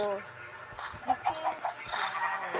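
Chickens, including a hen with chicks, clucking on a farm, short soft clucks and calls close by over a quiet background.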